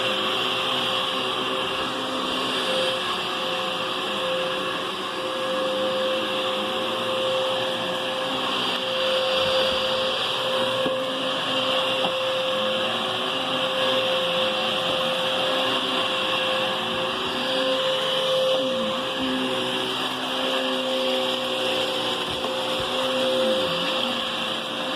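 A thrift-store Hoover Whisper cyclonic vacuum cleaner runs steadily and continuously, giving a fairly quiet, even whine and airflow hiss, with slight shifts in pitch as it is moved around.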